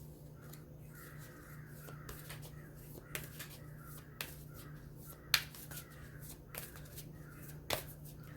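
Repeated crow caws in a steady series, with a few sharp clicks and snaps nearby and a low constant hum in the background.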